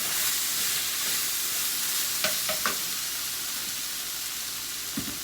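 Meat for carne guisada fries in a pan, a loud, steady close-up sizzle with a few brief clinks and stirring knocks over the hiss.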